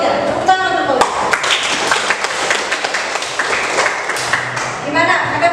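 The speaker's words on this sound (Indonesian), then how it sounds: "Tepuk tangan untuk Pak Ujar." Class clapping for Pak Ujar in a history lesson, a small group's steady claps under and around speaking voices, fairly close.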